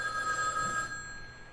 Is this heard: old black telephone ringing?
yes